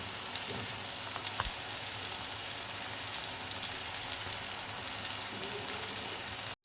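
Sliced onions frying in oil in a pan until brown, giving a soft, steady sizzle throughout with a few small pops and no talking.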